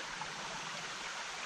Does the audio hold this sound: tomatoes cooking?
no